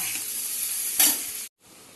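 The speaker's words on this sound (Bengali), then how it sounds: "এবার এই মশলাটাকে কষাবো, আর অল্প একটু জল দেবো।" Spice paste sizzles in hot oil in a pan for a taro curry, a dense continuous hiss that swells briefly midway, then cuts out for a moment before a quieter sizzle resumes.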